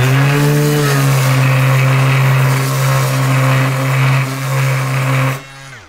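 A Bosch orbital sander runs loud and close with a steady high whine, its pitch shifting slightly as it works, then winds down abruptly near the end.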